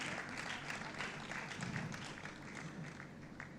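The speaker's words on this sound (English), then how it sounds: "I'm sure you'd like to clap for MRDC again." A conference audience claps steadily throughout at an entrepreneurs' trade expo, a dense, continuous wash of many hands at moderate distance with no talking over it.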